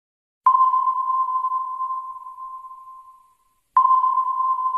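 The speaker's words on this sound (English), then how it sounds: "Submarine." Two electronic submarine sonar pings at a steady mid pitch: the first rings out and slowly fades over about three seconds, then a second ping starts sharply.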